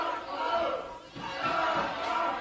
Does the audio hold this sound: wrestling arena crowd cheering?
yes